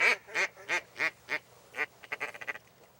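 Ducks quack over a Lake St. Clair marsh at first light. About eight loud, evenly spaced quacks sound nearby, followed by a faster run of shorter calls, with no voices.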